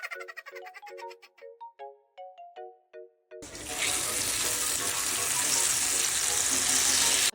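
Leftover egg hits a hot pan and fries with a loud, steady sizzle that starts abruptly midway, following a short ringing electronic melody.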